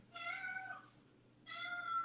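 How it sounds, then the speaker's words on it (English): A cat meows twice, two drawn-out cries with a short gap between them, moderately close over a steady low hum. "What's up with that cat? He always come around and meow."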